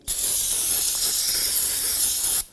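Solvent sprayed onto a bare steel brake rotor of a Volvo XC90 to clean off shipping oil: one continuous, loud, close hissing burst lasting a couple of seconds, then cutting off abruptly.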